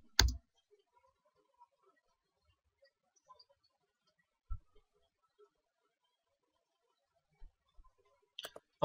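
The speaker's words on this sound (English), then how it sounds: "Now press enter to continue." A computer keyboard's Enter key pressed during a Linux/Ubuntu install on a Windows PC, heard as a few sharp, isolated clicks spread across a quiet background with no talking.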